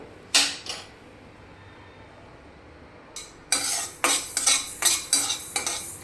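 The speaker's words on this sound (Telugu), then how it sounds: "కదుపుతూ దోరగా వేయించుకోవాలండి మెంతుల్ని." Fenugreek seeds being stirred and dry-roasted in a pan, a couple of scraping strokes, a pause, then a run of rhythmic metal spoon scrapes against the pan, close and clear.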